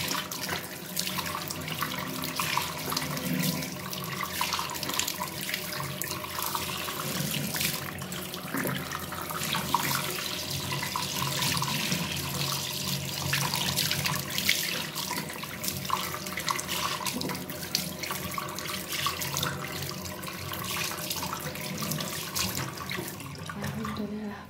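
Water runs from a tap into a sink while a face is rinsed after a coffee scrub. The stream is steady and close, with splashing changes throughout, and a voice talks faintly now and then.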